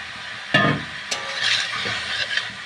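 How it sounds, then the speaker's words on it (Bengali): Fried prawns dropped into a pan of cauliflower cooking in spices, giving a sharp sizzle followed by a few stirring clinks and a low steady frying hiss. "আমি ভেজে রাখা চিংড়িগুলো দিয়ে দেবো"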